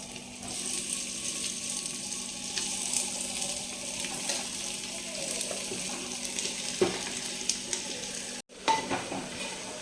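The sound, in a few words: chicken pieces frying in hot oil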